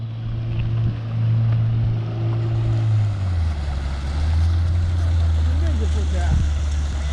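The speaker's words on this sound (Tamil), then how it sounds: "ஸோ போட் வந்துருச்சு." A boat comes in across open water at an elephant safari crossing in Coorg, its engine drone steady and fairly loud against wind and water noise, with voices talking over it.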